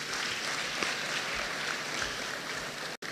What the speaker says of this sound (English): will give us a round of applause for them.